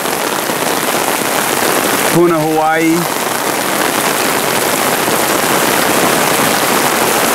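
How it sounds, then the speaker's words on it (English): Steady broadband rain hiss from a thunderstorm in Leilani Estates, Hawaii, fills the whole stretch, with a brief spoken phrase breaking in near the middle. "We're in a thunderstorm."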